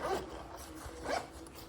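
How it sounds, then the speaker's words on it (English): Two quick zips of a clothing zipper, each a short rasping pull, with a pause between them, close and fairly quiet. "I gotta find the zipper."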